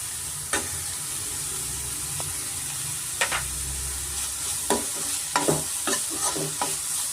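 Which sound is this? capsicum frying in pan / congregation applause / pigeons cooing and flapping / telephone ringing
capsicum frying in pan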